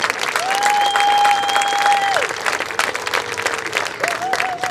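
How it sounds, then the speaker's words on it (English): Crowd applause at a Pride of Piqua Marching Band parent event, loud and steady throughout, with a sustained tonal whistle or horn note sounding over the clapping. "So let's give the 2 of them a big round of applause."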